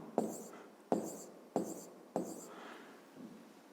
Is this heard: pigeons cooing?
no